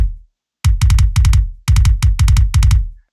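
Recorded drums layered with a triggered kick drum, a loud, dry pattern of punchy hits in quick clusters separated by short gaps, alone with no voices.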